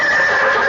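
A short, loud horse whinny sound effect from an old radio comedy, a single shrill, wavering neigh heard alone with a slightly tinny broadcast quality.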